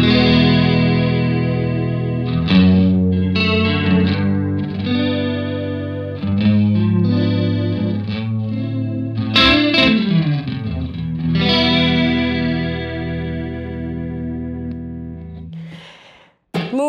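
A guitar runs through an effects pedal with heavy chorus for 80s-style tones, sustained wobbling chords and swelling notes played up close, ending in a brief cutoff.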